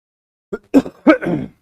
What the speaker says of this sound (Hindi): क्लास में थोड़ी थोड़ी सी कभी कभी खांसी आती रहती है